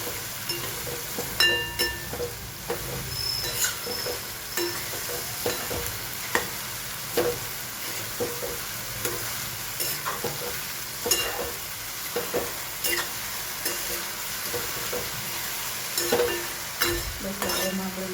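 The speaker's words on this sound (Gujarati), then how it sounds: "સરસ મિક્સ કરી લઈએ." Food being stirred and mixed in a hot frying pan: continuous sizzle with repeated spoon scrapes and light clinks against the pan, close and fairly loud, no talking.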